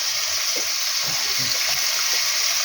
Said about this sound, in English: Just drain the water for me.